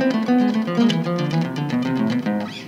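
Neoclassical electric guitar lick played as a rapid note sequence, clear and continuous, with fast picked notes running alone without any talk.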